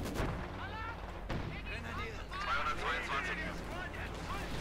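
Artillery and mortar fire from the video game Company of Heroes 2 booms steadily at moderate loudness under a commentator talking continuously.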